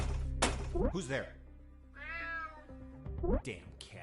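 A cat meows repeatedly in the stealth video game UnMetal, several clear close meows and yowls with pauses between, over a low game background.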